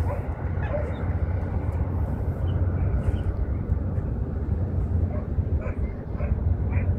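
Small dogs on the Wan Chai harbour promenade in Hong Kong yip and bark intermittently amid a steady wash of outdoor crowd and ambient noise, the barks moderately close but partly buried in the background din.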